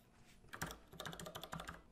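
Quiet, close keystrokes on a computer keyboard while a Laravel migration file is edited, a quick uneven patter of taps in short bursts with no talking.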